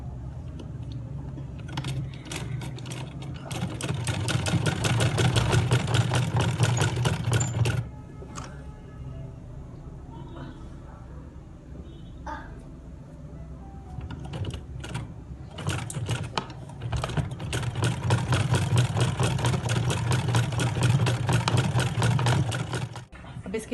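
A sewing machine stitches lace onto fabric in two long rapid, rattling bursts separated by a quieter pause with small handling clicks, heard fairly close.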